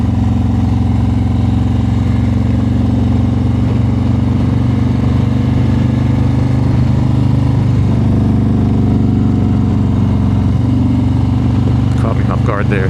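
A Harley-Davidson Road Glide ST motorcycle with a 3-inch lift rides through a canyon, its engine giving a steady, loud, close drone that swells as it revs near the end, with a rider talking over it.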